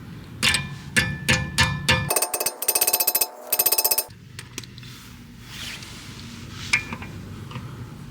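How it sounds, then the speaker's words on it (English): A socket is hammered onto a stripped lug nut: a handful of sharp, ringing metal blows at a steady pace, then a quick run of rapid clanking strikes. Close and loud, with no talking. "We're going to hammer it on."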